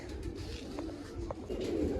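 Pigeons coo softly a few times against a low background hum, the throaty calls close by.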